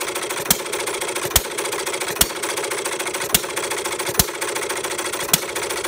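A Perkins vertical side-shaft hit-and-miss model engine running after its choke is opened to lean the mixture, with sharp firing knocks at a regular, roughly one-second beat over a continuous close mechanical clatter.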